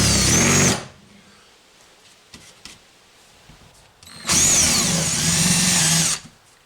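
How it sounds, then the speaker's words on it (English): An electric drill bores into fretboard wood with the bit running in reverse. Two loud whirring bursts come close up, separated by a quieter gap with a few faint knocks. "Typically, I'll run the drill bit in reverse so it doesn't chip the wood all up."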